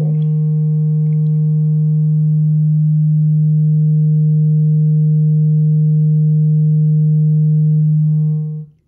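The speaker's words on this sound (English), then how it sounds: "it kind of rounds it out into the triangle wave, into a sine wave." An Instruō tanh[3] synthesizer module puts out a steady, loud sine-like tone, a low pure hum held for about eight seconds with faint harmonics before it cuts off sharply.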